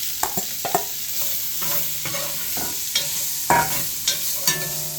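Two small yellow onions fry with chili powder and smoked paprika for a pot of chili, giving a close, steady sizzle broken by frequent scraping and tapping stir strokes, with no voices.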